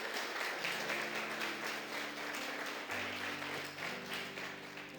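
Church congregation applauding steadily throughout, a broad wash of clapping at moderate distance with organ or keyboard chords sustained underneath.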